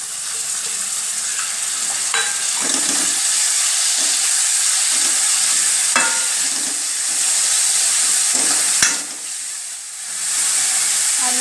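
Moth beans and ginger-garlic paste fry in hot oil for a hotel-style misal, giving a loud, steady, close hiss of sizzling. Occasional spoon scrapes and taps stand out, and the hiss dips briefly near the end.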